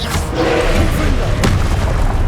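Confringo fire spell exploding in Hogwarts Legacy, dense booming blasts and thuds layered over continuous battle noise, loud and sustained without a clear gap.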